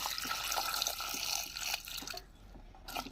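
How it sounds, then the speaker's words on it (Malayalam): Water poured into a pot of ash gourd buttermilk curry, a soft continuous trickle and splash that thins and stops near the end, close and fairly quiet with no talk. "ഇത് വേവാൻ ആവശ്യത്തിന് വെള്ളം ഒഴിച്ച് കൊടുക്കാം കേട്ടോ."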